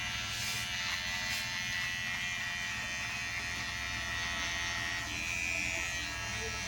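An electric beard trimmer buzzes steadily and close while it shapes a beard design, giving a constant electric hum with slight shifts in tone as it moves across the hair.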